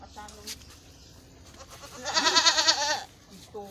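Goats bleat in a short, wavering burst near the middle, with murmured speech and background noise around it.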